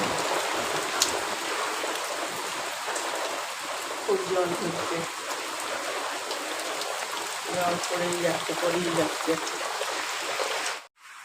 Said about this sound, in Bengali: আজকে তিন দিন থেকে জল হচ্ছে